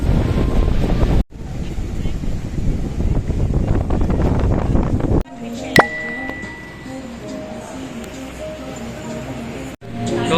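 Strong wind at a beach in Da Nang, Vietnam, buffeting the microphone in loud, rough gusts with surf underneath, cutting out and returning, and a brief chime later while the gusts ease.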